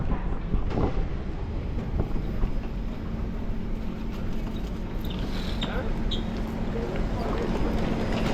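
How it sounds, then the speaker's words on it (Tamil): A metro train in Singapore rumbles and clatters steadily along the track, a continuous rolling noise with a faint mechanical whine and voices murmuring over it. "ட்ரெயின் கிளம்பிடுச்சு."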